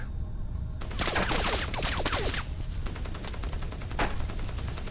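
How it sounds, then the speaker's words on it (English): Rapid automatic gunfire in the jungle of Crysis Remastered, with dense bursts of machine-gun shots crackling loudly for about two seconds, then scattered single shots and another short burst against a steady background ambience. "Someone's blasting at me with a machine gun."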